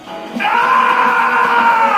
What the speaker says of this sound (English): am I the only one who thinks Sonic's death scream as the Warhog is completely over the top?